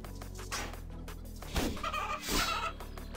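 Chickens clucking in RuneScape 3, a few game birds giving short repeated clucks and squawks at moderate volume over a steady low background hum, with no talking.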